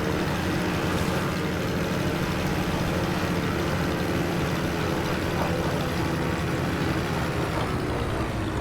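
A single aircraft engine in the X-Plane flight simulator drones as a steady, loud, unbroken low hum and rumble throughout, with no breaks or changes in pitch.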